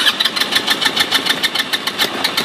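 A Turkish amphibious vehicle built to drive on land and water revs its engine loud and close, a steady throbbing roar that pulses rapidly and continuously throughout.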